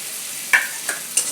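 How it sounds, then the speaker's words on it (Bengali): Green chillies tossed into a hot pan of frying spice paste, a soft steady sizzle broken by three short clinking stirs of a utensil against the pan. "এবার কাঁচা লঙ্কাগুলো দিয়ে দিচ্ছি।"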